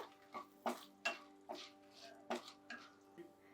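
Chilies being stirred in a cooking pan for bell pepper rice, with a spoon knocking and scraping the pan in irregular clinks at close range, alone without talk.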